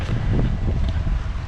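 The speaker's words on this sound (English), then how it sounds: "it's a little windy" Gusty wind buffets the microphone outdoors at night, a low, continuous rumble that swells and eases without a break.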